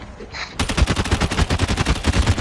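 Rapid automatic gunfire from COD Mobile zombie mode comes in a loud, rhythmic rattle of closely spaced shots after a brief quiet start.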